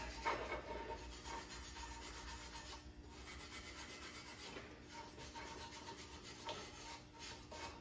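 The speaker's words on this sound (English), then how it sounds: "I'm still using my stainless steel brush" A stainless steel wire brush scrubs back and forth over an aluminum casting on a Ford 427 engine. The scratchy rasp is steady and fairly faint, with no one talking over it.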